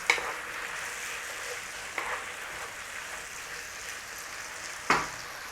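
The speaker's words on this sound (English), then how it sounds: "we just want the tomatoes cooked a little bit so they stay sweet" Tomatoes and beef frying in a pan for a Chinese-style dish: a steady, soft sizzle that continues throughout, with a few brief clinks of stirring.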